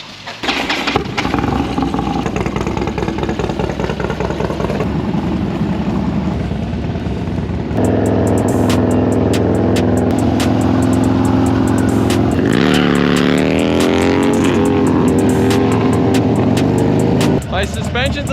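A Harley-Davidson with a Screamin' Eagle-style 96-inch engine and just a pipe revs hard, then holds a loud, sustained high-rpm roar during a burnout, close by, with voices talking over the engine at times.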